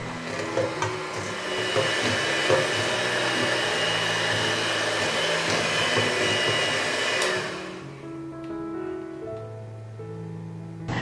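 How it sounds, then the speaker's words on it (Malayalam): A hand mixer beats sugar and oil for a pumpkin cake, whirring at a steady loud pitch for several seconds before switching off, leaving faint kitchen clatter. "പഞ്ചസാരയും ഓയിലും കൂടെ ഒരു ഹാൻഡ് മിക്സറോ അല്ലെങ്കിൽ ഒരു വിസ്കോ കൊണ്ട് നല്ലതുപോലെ അടിച്ച് മയപ്പെടുത്തി എടുക്കണം"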